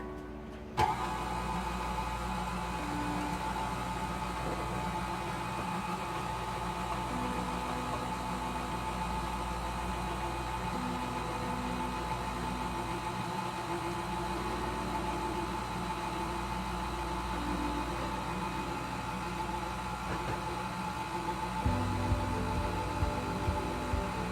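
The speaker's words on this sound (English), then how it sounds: "I'm going to start off with the whisk in there until it gets softer, and then I'm going to switch over to the dough hook." A stand mixer runs with a steady motor whir while mixing pizza dough, humming at an even level with a faint rhythmic churn throughout and a slight shift in pitch near the end.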